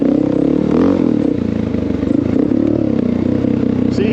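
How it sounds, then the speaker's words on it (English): A Honda XR650L motorcycle engine compression braking while coasting downhill, a loud, close, steady low throb with light mechanical clatter and no popping, continuous throughout. "You hear how you just hear compression from the engine."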